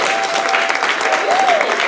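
Comedy club audience clapping in a short, steady burst of applause, fairly close and full, with crowd noise underneath.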